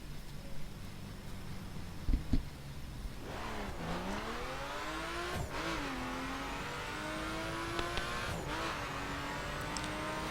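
A RUF CTR-3 sports car's engine revs and accelerates in the driving game The Crew, rising and falling in pitch through several gear changes, with a couple of sharp clunks early on and steady road noise underneath.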